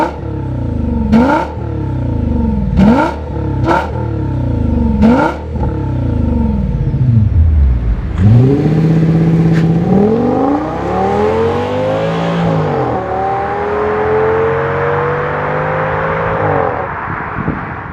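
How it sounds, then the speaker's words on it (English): A powerful Audi S8 5.2L V10 engine revs hard in repeated sharp bursts, then roars loudly through gear changes as it accelerates away, close and dominant. "Which of course meant some glorious V10 sounds."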